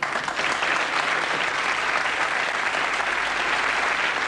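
Studio audience applause during a British TV comedy sketch show, a full, even wash of clapping that holds at a constant loud level throughout, with no talking.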